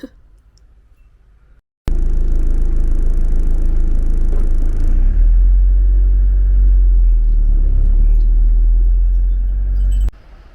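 Camper van on a long road drive in northern England, its engine and tyre rumble loud and steady from close by inside the cab after a sudden start, with no talking.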